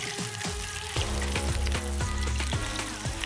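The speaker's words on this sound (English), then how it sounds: "Sizzle, sizzle. My oil's talking to me." Tuna meatballs fry in hot oil in a pan, a dense close sizzle with crackles and spatters throughout, a few sharp pops cutting through the steady hiss.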